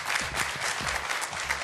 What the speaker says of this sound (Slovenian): Zdaj le pa boste podaljšali ta aplavz še za našo Valentino Smejnovak.